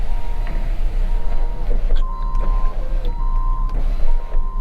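Electric power windows on a salvage auction car whir up and down in several runs, a steady motor drone with pitch shifts and stops, close-up over a low idling hum.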